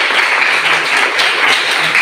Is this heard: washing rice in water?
no